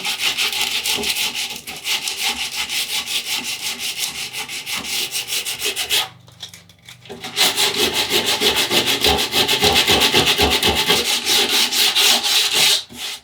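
A surfboard fin base, tacked on with resin, being sanded by hand with coarse 40 grit sandpaper to knock down built-up lumps; steady loud rhythmic rasping strokes, close up, with a brief pause midway before the scrubbing resumes.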